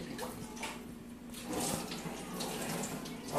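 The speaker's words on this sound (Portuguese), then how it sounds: "Dá uma lavada aqui nas pimentas que foram colhidas da horta que eu plantei." Tap water runs steadily over garden-picked peppers being washed in a sink, a continuous splashing stream that swells and thickens toward the end.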